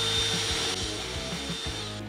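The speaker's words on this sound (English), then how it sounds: "I'm gonna go ahead and drill some pilot holes" A power drill boring pilot holes for hidden countertop bracket fasteners, a steady whine with short repeated bursts as the bit pulses through the material, close up, no talking.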